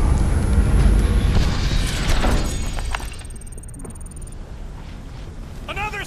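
Booming fireworks explosions in the video game Marvel's Guardians of the Galaxy on PS5, a loud, dense rumble that fades after a few seconds into quieter crackling effects.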